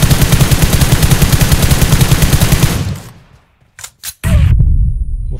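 Automatic rifle spray fire from the PUBG Mobile game, a fast loud burst of rapid shots lasting about three seconds, then a pause, a couple of short clicks, and another dense burst of gunfire.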